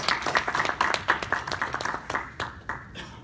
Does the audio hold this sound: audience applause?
yes